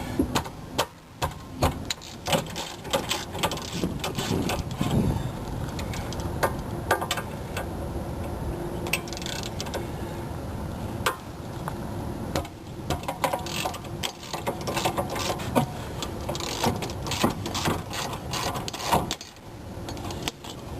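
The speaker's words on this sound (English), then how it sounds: "So now we'll take the caliper off." Repeated ratchet clicking in quick bursts as a wrench works the rear brake caliper bolts loose on a 1984–1991 Mercedes, close and steady with short pauses between runs.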